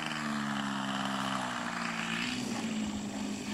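RC model Cub airplane flies with its engine and propeller droning steadily, the pitch sliding as the throttle changes. The sound is continuous, moderately distant and alone.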